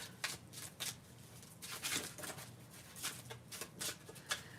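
Tarot cards are shuffled by hand in a run of quick, papery riffling bursts and soft slaps, close and fairly loud, repeating irregularly with no talking over them.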